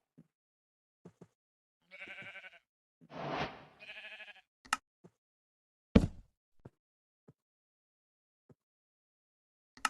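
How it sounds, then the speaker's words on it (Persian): Sheep in the Minecraft video game give a few short bleats between quiet stretches, with sparse clicks and pops scattered throughout the game audio. "گوسفندان گرامی"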